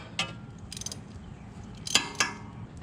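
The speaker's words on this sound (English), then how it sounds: "I'm unscrewing that spark plug here" Ratchet wrench loosening a spark plug on a 1998 Buick 3.8 engine, its pawl clicking in scattered short bursts close by, fairly quiet, with no talking.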